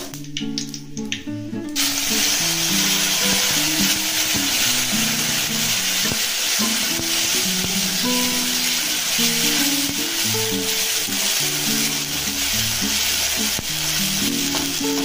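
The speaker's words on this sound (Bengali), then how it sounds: "তো রসুনটা লাল লাল হয়ে গেছে। আবার কচুটা ঢেলে দেবো" Taro pieces tipped into a pan where crushed garlic has browned in oil, a loud, sustained sizzle after a brief quieter start, with soft background music running under it and no voices.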